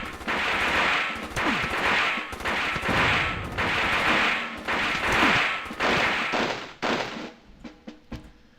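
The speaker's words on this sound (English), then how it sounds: "We might have used a little too many grenades." Bursts of machine-gun fire and grenade blasts pound in the Army Men game, heavy repeated volleys filling several seconds before tapering into scattered isolated shots.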